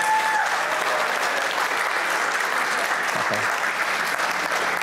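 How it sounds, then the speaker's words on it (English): Sustained church congregation applause for two pastors fills the space evenly and steadily from start to finish, dense and continuous with a brief murmur of voices mixed in. "If you're going to clap your hands for your pastor, for Rodney and Liz, would you do that well?"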